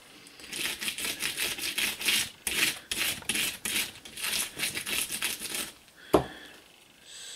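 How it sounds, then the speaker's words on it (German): Scrubbing over a handmade valentine card with a blooming-heart design, rapid rhythmic rubbing strokes in bursts for several seconds, then a short pause and a single sharp knock. "Und das schrubbel ich jetzt ordentlich drüber"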